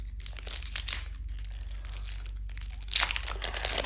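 Plastic packaging around a mirror cube crinkles and rustles as it is unboxed, in close bursts of crackling handling noise, with a louder crinkle near the end over a low background hum.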